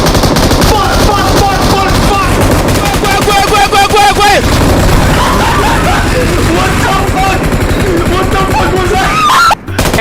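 Sustained M249 light machine gun fire in PUBG Mobile, long loud bursts of rapid shots heard close up, with excited voices talking over the shooting until it cuts off abruptly near the end.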